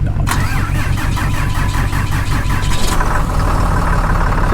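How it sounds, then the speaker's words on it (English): A diesel pickup truck with a check engine light fault cranks and fires, then settles into a loud, rattly idle with a steady clatter, close up and with no one talking. "Start her up, Chuck."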